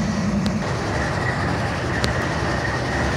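A Norfolk Southern mixed freight train rolls past close by, wheels rumbling and clacking steadily over the rails with occasional sharp metallic clicks.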